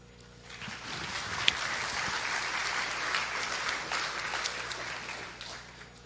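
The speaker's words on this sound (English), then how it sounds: "Please give a warm applause, and the stage is yours." An audience at a Linux kernel conference talk claps warmly, a soft swell that rises, holds steady for several seconds, then fades, heard from a moderate distance with no talking over it.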